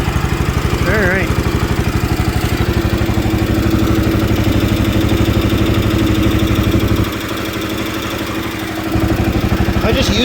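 Single-cylinder engine of a 1973 John Deere 140 H3 garden tractor running steadily nearby with a loud, continuous pulsing drone, briefly dipping in level before resuming.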